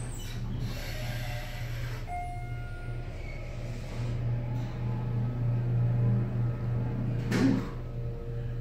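Elevator in a Nordstrom store riding upward with a bumpy ride, heard as a steady low motor hum and rumble with faint rattles and a brief louder clunk near the end.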